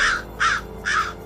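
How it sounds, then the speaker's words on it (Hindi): Crows cawing, three harsh calls spaced about evenly, fairly close and clear against a quiet background. "मेरे पीछे के तरफ से एक दो करके कौवे की काव काव आवाज़ें आने लगी।"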